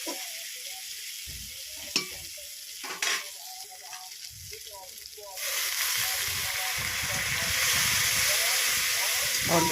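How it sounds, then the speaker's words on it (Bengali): Bata fish in mustard and poppy-seed paste is stirred and fried in a pan. A few clanks and soft sizzling come first, then a loud, steady hiss of frying swells up and carries on close by. "বন্ধুরা খুব সুন্দর করে কিছুক্ষণ আমি নেড়ে চেড়ে কষে নেব।"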